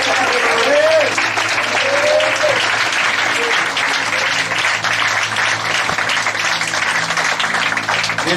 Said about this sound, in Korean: 이 시간 주님께 박수로 영광을 올려드립니다.